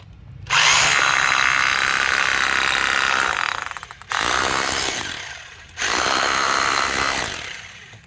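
An 1,800-watt rotary hammer drill set to hammer-only mode runs in three loud bursts, harsh and chattering, with brief pauses between as the trigger is released and pressed again.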